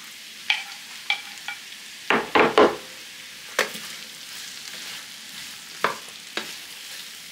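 Onions frying in a pan, with intermittent sharp scraping bursts of stirring over a low, steady sizzle; no one talks.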